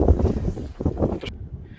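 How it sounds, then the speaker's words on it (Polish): Gusty wind buffets the microphone with low rumbling bursts, then cuts off abruptly near the end. "wiatr zerwał"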